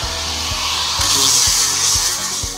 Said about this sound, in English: I spent 2 solid days with a grinder taking off the bottom paint